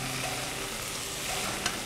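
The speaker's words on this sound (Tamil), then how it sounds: "தாளிக்கிற சவுண்டே" Spices tempering in hot oil for mor kuzhambu sizzle and crackle in a pan, a dense, steady frying hiss up close with a small pop near the end.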